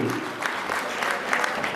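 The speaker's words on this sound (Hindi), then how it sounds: "जोरदार तालियों से स्वागत करें सत्य साई कीर्तन मंडली" At a Basant Panchami fair at Kanvashram in Uttarakhand, the crowd claps to welcome a Satya Sai kirtan group, a brief burst of steady, moderately loud applause.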